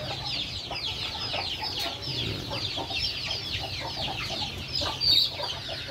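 Native chickens on a farm clucking continuously while waiting for food, many overlapping short clucks at moderate distance with a slightly louder squawk near the end.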